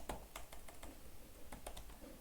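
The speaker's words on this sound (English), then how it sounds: "my typing is relatively fast" Rapid typing on a computer keyboard, a quick irregular patter of crisp key clicks with short pauses, close and clear, no voices.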